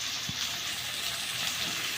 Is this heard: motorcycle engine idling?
no